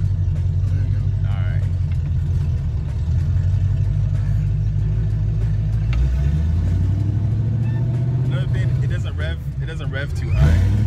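A V8 Valiant's engine rumbles loudly from inside the car, rising into a rev and falling back toward the end, while people talk over the engine noise.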